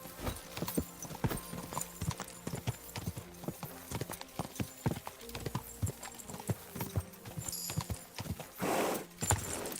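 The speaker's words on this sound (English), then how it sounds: "Damn, this horse can jump." Horse hooves clip-clop in a fast, steady galloping rhythm while the animal runs and leaps in the Kingdom Come: Deliverance II video game, with a short whinny near the end.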